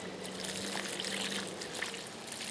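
Water poured from a bucket onto newly planted garden plants, soaking them at the roots; a steady close splashing trickle with broadband hiss, no talk.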